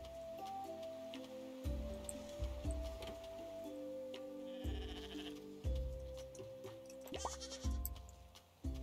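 Goats bleat in the farming video game Roots of Pacha, short nasal calls rising out of a steady game music backdrop, close and clear with no talk.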